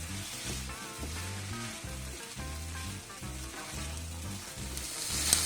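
Rice fries in a hot pan for nasi goreng, Malaysian fried rice, giving a continuous crackling sizzle, fairly close and loud, broken by repeated low scraping and stirring strokes in a steady rhythm, with no talking.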